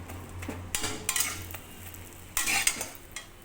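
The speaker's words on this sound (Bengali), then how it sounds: "দেখতে আমি ডিমের অমলেট করে" An egg omelette cooks in a frying pan, with a low sizzle under repeated scraping and stirring strokes of a utensil against the pan, in bursts of several seconds.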